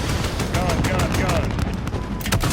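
Rapid bursts of air support gunfire in the Modern Warfare game's Proxy War campaign mission, loud and close, with dense repeated shots.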